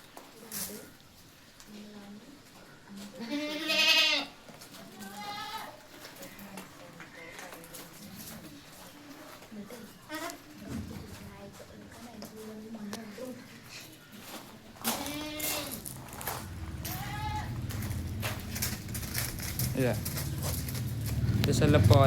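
Several goats bleat in short wavering calls, some near and some farther off, while a person talks over them and background noise swells toward the end.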